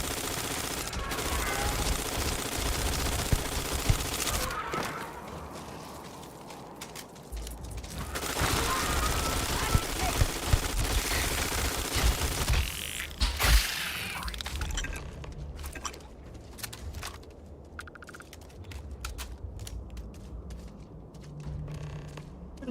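Enemy gunfire aimed at the player in Starfield, bursts of rapid shots and sharp cracks in loud stretches broken by quieter gaps, with the firing thinning out toward the end.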